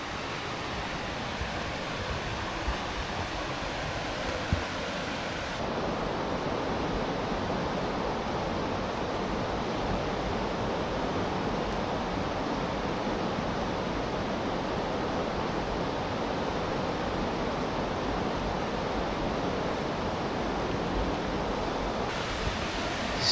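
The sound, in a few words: river raging through forest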